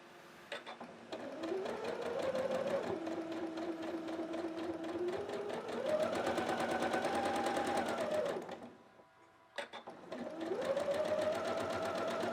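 A sewing machine runs at close range, sewing quilt block pieces for a snowman quilt with a whirring motor whose pitch rises and falls as the speed changes, stopping briefly before starting again.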